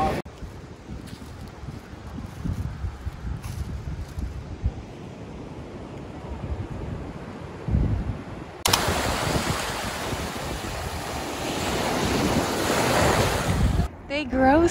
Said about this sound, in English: Night on the beach.